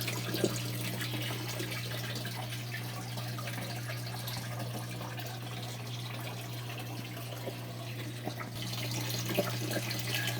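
Running water pours steadily from a tap as water is collected for a goldfish aquarium, a continuous close gushing with a low steady hum beneath it and no voices.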